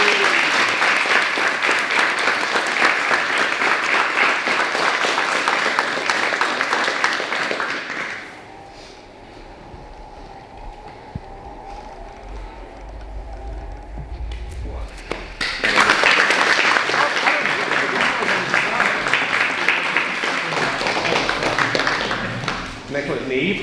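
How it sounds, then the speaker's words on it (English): Audience applause at a martial arts belt promotion during a closed guard seminar, with loud sustained clapping for about eight seconds. A quieter lull with a few taps follows, then a second strong burst of applause. "Give him a round of applause."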